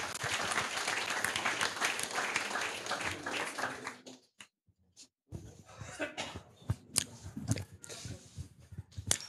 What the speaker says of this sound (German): Ein herzlichen Applaus.